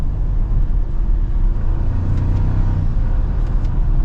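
A 2024 Toyota Tacoma TRD Off Road 4X4 picks up speed on the road, its engine a steady, moderately loud rumble heard from inside the cab, with tones rising slightly as it accelerates.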